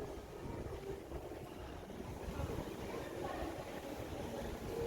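Chilly wind buffets a microphone outdoors in Glendale, Los Angeles, a steady faint rumbling rush with no clear voices.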